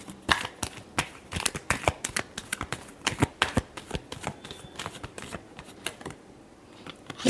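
Tarot cards being shuffled up close, a dense run of quick papery riffles and snaps with brief pauses, with no one speaking.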